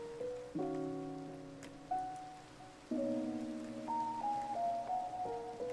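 Steady soft hiss of falling rain in Minecraft, heard under gentle, sustained game music chords that shift every second or so.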